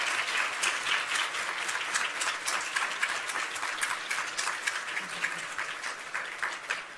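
Applause for newly sworn-in citizens at a Constitution Day naturalization ceremony, a steady, dense clapping from a large audience that holds evenly for about seven seconds with no talk over it.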